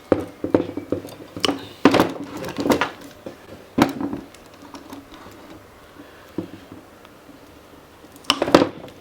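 A metal lug is crimped onto a cable: a series of scattered close clicks, squeezes and thunks at irregular intervals, with quiet gaps between them.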